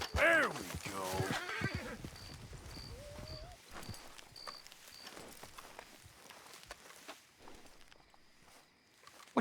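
A horse in the Red Dead Redemption 2 video game gives a loud, wavering whinny at the start, then walks with soft, irregular clip-clop hoof steps that continue to the end. Faint tonal game sounds come and go.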